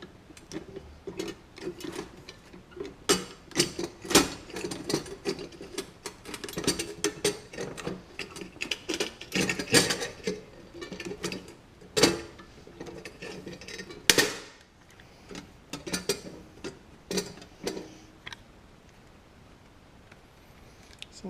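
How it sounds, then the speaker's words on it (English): A hand rivet gun being worked up close, giving a string of sharp mechanical clicks and snaps in irregular bursts with short pauses between them, with no talking. "let me dig out my rivet gun and we'll be finishing this thing up"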